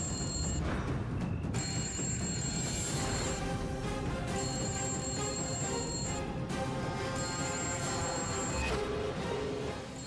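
A mobile phone rings with a high, repeating electronic tone in bursts during a Telugu TV serial scene, set against dense, loud background sound throughout.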